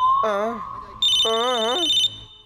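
A cartoon telephone rings in two long electronic trills, warbling bursts with a steady high tone running through them, loud and close, with a brief gap between rings.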